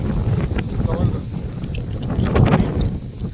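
Strong wind roaring steadily through a mountain col in the Sahyadri hills near Bhivgad, a dense, buffeting rush that swells and falls in loudness throughout.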